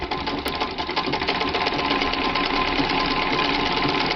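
A Singer Lotus sewing machine, an older model, stitches steadily and loudly with a fast continuous mechanical whir and needle clatter, running without a break.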